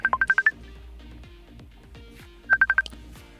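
An incoming Facebook call rings in the background as two short bursts of rapid, high electronic tones separated by a pause, over quiet clicking and tapping.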